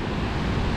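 Ocean surf on a huge open beach, a steady broadband roar of waves and wind filling the whole moment, loud and close with no voices.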